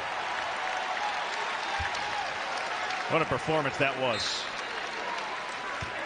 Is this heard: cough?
no